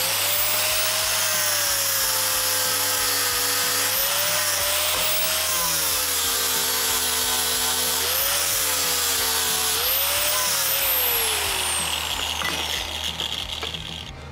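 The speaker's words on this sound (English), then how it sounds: "we're only putting a bevel on two sides, one on the bottom and one on the back." Power tool grinding a bevel onto steel C-channel for a DIY tube and pipe bender kit, a steady loud whine with shifting pitch and rhythmic pulsing underneath, running continuously before tapering off near the end.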